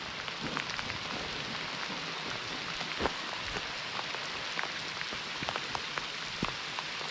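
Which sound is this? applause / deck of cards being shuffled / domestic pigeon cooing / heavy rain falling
heavy rain falling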